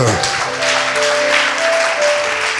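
A church congregation cheers and applauds in a sustained, steady wash of crowd noise, with held musical tones running beneath and voices mixed into the clapping.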